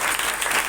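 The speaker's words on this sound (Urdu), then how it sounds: "یسوع کے زندہ نام پر زوردار تالی مارے." Church congregation in Karachi clapping together, a brief, dense burst of loud applause filling the room.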